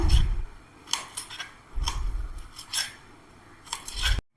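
Raw plantain peel being chopped into pieces with a knife: a handful of crisp, close cutting strokes at an uneven pace, each a sharp tap with quiet pauses between, and no voices.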